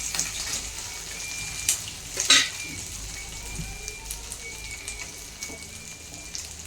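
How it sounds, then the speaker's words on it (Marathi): Masala with chilli and coconut frying in oil on a stove, a steady soft sizzle and crackle running throughout with a few brief clinks and splashes, fairly quiet and close. "एक साथ सगळा मसाला आपल्याला तेलात फ्राय करून घ्यायचा आहे"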